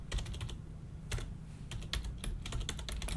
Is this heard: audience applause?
no